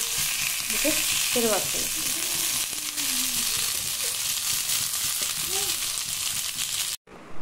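Fish frying on a tawa, a steady loud sizzle throughout with scraping stir and turning sounds, someone speaking briefly over it near the start.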